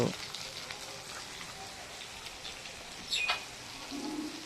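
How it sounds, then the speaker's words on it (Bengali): Fish frying in a hot pan while being turned and stirred, a steady close crackling sizzle that runs throughout with a few brighter scraping bursts. "মাছগুলো নাড়াচাড়া করে দিচ্ছি যেন বসে না যায়, তাড়াতাড়ি হয়"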